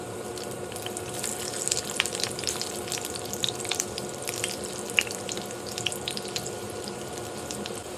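Chicken shami kebabs shallow frying in a pan, giving a continuous close sizzle with frequent sharp pops and crackles throughout, no voices.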